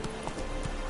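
Hooves of Roach, the horse in The Witcher 3, clip-clop in a quick run of soft, close hoofbeats over a steady in-game background.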